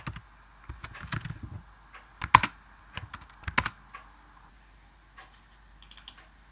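Code being typed on a computer keyboard: scattered, fairly close key clicks in short bursts with pauses between them against a quiet background.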